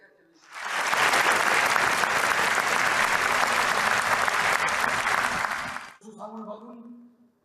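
Enthusiastic applause fills a hall at the closing of the Pyongyang International Film Festival, a dense, steady roar of many clapping hands lasting about five seconds before cutting off into brief talk.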